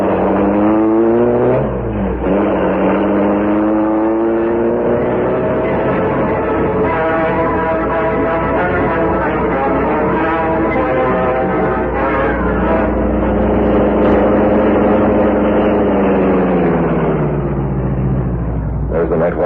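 A car starts and pulls away as a radio-drama sound effect: the engine note climbs and falls in long, smooth, loud sweeps, heard alone with a slightly muffled, narrow-band quality.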